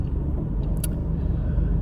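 A car idles in Hawaii traffic, its engine a low steady rumble inside the cabin, with a faint brief tick or click midway and no talking.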